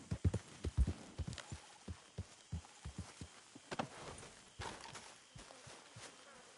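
Horse hooves in Red Dead Redemption 2 clopping in a steady galloping rhythm, close and distinct, with no talking.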